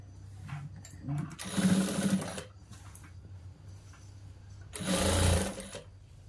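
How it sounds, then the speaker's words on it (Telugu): A sewing machine whirs in two short bursts, each about a second long, while stitching a boy's school uniform shirt, with someone talking quietly between and under the runs. "ఈ విధంగా ఇట్లా స్ట్రైట్గా పెట్టి కుట్టుకుంటూ రావాలండి"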